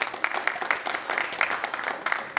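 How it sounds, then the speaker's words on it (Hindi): Audience applause for an actor who played Aurangzeb and Bahadur Shah Zafar in a stage play, a steady wash of clapping from a crowd that runs the whole time at moderate volume. "एक बार जोरदार तालियां इनके लिए भी बजाइए"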